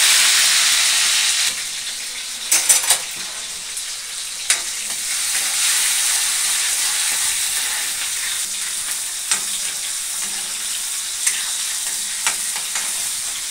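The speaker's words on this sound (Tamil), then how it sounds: "வெந்தயம் போட்டு தாளிக்கணும்" Steady, loud sizzling of fennel and fenugreek seeds in hot oil, a bright continuous hiss broken by a few sharp crackles and pops.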